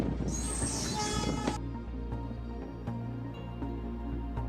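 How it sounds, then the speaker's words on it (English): A train rocks along a railway during a storm, with a loud continuous rumble, a brief high screech or horn early on, then steady heavy rolling with regular clunks from the wheels. "Sitting on the rocking train in the storm"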